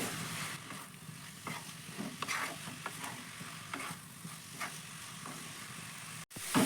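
Coconut filling for Bengali dudh puli cooks in a pan over medium-low heat, a soft sizzle under repeated scraping stirs that land in an irregular rhythm, close and fairly quiet, ending in a brief dropout and a louder knock.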